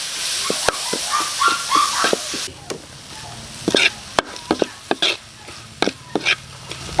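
Mung beans sautéing in a pan for ginisang munggo with miswa: a spatula scrapes and taps sharply against the pan over a steady low sizzle, the clicks irregular and close, with no talking.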